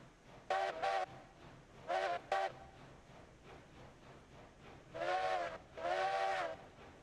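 Steam locomotive whistle in the railway game Railroads Online: two short paired blasts, then a second short pair, followed by two longer sustained blasts, loud and clear over a quiet rumbling background.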